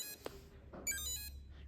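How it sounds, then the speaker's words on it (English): Tektite-R electric vehicle electronics switching on with two faint high electronic beeps a short moment apart, heard alone over a low hum. "Notice that it makes 2 beeps."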